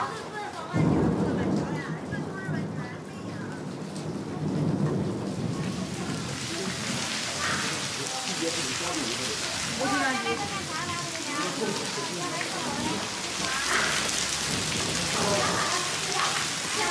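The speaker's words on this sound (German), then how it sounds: "Starke Regenfälle sind die Bewohner der Region gewohnt." Heavy rain pours in a mountain region of China, a dense constant hiss with a deep rumble of thunder early on, while a narrator's voice runs over the storm for much of the stretch.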